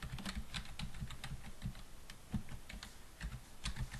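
Rapid, close keystrokes rattle across a computer keyboard in quick uneven bursts, crisp clicks and thuds with brief pauses between runs, no voices.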